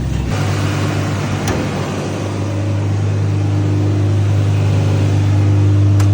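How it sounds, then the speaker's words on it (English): A rusty junk car's engine idles at a high, steady pitch, a constant loud drone close by with a faint whine above it, no talking. "She's idling pretty high"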